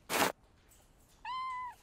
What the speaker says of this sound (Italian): Le presento Pounce e il suo gattino, Bertie. Il piccolo felino è malato